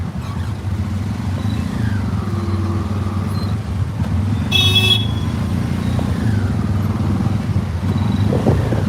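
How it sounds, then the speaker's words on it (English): A poorly maintained, loud motorbike engine in Cambodia, a steady low rumble running throughout amid street traffic, with a brief high-pitched horn toot midway. "People never maintain their bikes here, so the brakes squeak and their engines are loud and their mufflers are falling off"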